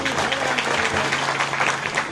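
Audience applause at a Sambalpuri poetry recital: a short burst of lively, dense clapping from a crowd, steady and fairly loud throughout.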